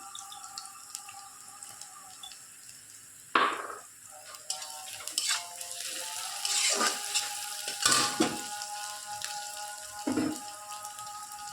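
Salted onions frying in hot mustard oil, a quiet sizzle under occasional sharp scrapes and knocks of a spatula against the pan.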